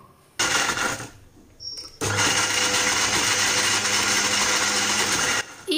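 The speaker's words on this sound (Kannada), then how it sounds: "ಈಗ ನಾವು ಇದನ್ನ ಗ್ರೈಂಡ್ ಮಾಡ್ಕೊಳ್ಳೋಣ" Mixer grinder whirring loudly as it grinds lemon pickle in a home kitchen, a short burst first, then a pause and a long, steady, close run that cuts off near the end.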